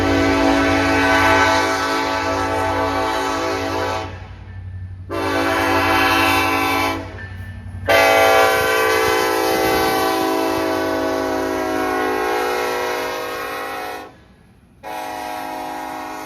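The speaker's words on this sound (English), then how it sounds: "BNSF with two NS engines trailing." A BNSF freight train with two trailing NS locomotives rolls past close by in a loud, continuous roar with steady rumble and rail noise, briefly dipping twice before resuming.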